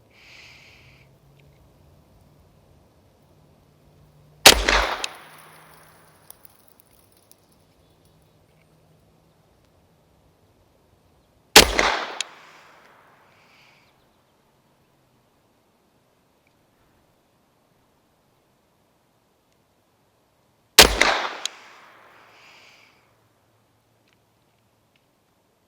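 Shots from a handgun fitted with a Cyelee T10 X Pro red dot sight, fired at a target on a range: three sharp, loud reports spaced several seconds apart, each one followed by a short echoing tail.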